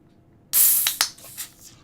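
A Guinness beer can is cracked open with a sharp burst of hissing gas, then a brief fizzing rush that fades over about a second. No one speaks.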